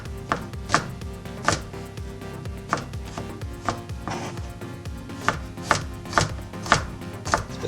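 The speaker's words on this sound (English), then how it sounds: "And then we get chopping." A knife chops pork tenderloin in a home kitchen, with a steady run of sharp, close thuds on the cutting board and no talking.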